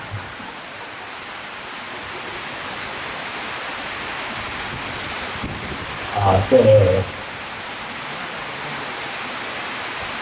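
Rain falls as a steady, broad hiss throughout, with a brief spoken word and some murmuring voices rising over it partway through.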